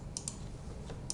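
Computer mouse or keyboard clicks come through as a few sharp, faint clicks spaced irregularly over a quiet background, with no speech.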